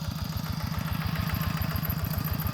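A small two-wheel walking tractor engine chugs steadily and close by while ploughing a rice paddy, with a fast, even putter and metallic clatter, no voices.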